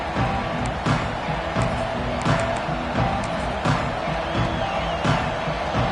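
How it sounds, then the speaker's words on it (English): Continuous stadium crowd roar in an NCAA football video game, a dense steady wash of cheering with rhythmic thumps and claps pulsing through it, fairly loud and without clear speech on top. "This crowd ready to make its presence known."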